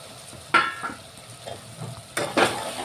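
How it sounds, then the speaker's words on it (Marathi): Stuffed eggplants go into a pan of cooked spice masala, bringing soft sizzling with a couple of sharp bursts and light clatter of utensils against the pan, close by and with no talking. "आता यामध्ये हे वांगे भरलेले जे आहे ते टाकायचे।"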